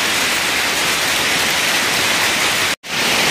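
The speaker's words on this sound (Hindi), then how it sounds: "तो भाई ये देखो ओले पड़ने स्टार्ट हो गए हैं" Hail pours down during a storm in Mussoorie as a dense, steady roar of hiss, loud and continuous, with a sudden brief dropout just before the end.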